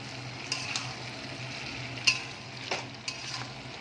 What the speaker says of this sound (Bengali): চিকেনটা একটু ভালো করে মশলার সাথে মিশিয়ে নেওয়ার পরে